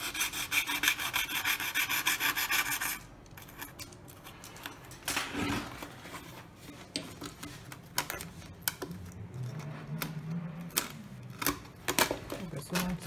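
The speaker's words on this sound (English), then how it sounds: "So we need to cut the pieces from here also." Depron foam board pieces for an F-22 Raptor model being cut, a dense scraping rasp for the first few seconds, then intermittent short scratchy cuts and rustling, with a person talking in between.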